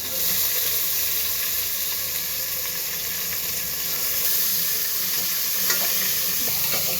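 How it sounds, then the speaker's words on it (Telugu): Onion frying in hot oil and ghee for prawn biryani, a steady dense sizzle with a constant hiss that holds loud and even throughout, with faint stirring clicks near the end. "నూనె కాగిన తర్వాత ఈ ఐటమ్స్ అంతా వేస్తాను. ఎర్రగడ్డ నేను వేసుకుంటాను."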